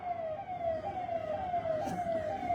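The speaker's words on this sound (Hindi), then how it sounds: "एम्बुलेंस को थोड़ा बढ़िया से रास्ता दे दीजिएगा।" An ambulance siren wails past on a road, its tone sliding down in repeated sweeps, fairly clear and steady against faint background traffic noise.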